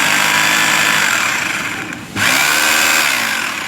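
An ENZO 26 mm three-mode 900-watt rotary hammer drill runs with a loud, steady high-pitched motor whine, briefly winds down near the middle, then spins back up close by.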